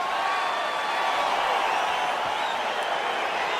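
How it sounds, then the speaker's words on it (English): Virtual arena crowd in EA Sports UFC 4 cheering at the start of a fight, a steady, even roar of distant voices with no distinct peaks, held at a moderate level throughout. "crowd getting excited as this fight gets underway"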